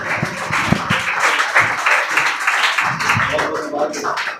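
An audience at a confidence-building program at an English academy applauds a student receiving an award, a dense stretch of clapping with voices mixed in.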